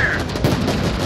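Gunfire in the video game Crossfire: Legion, a brief, loud burst of rapid shots layered over battle noise.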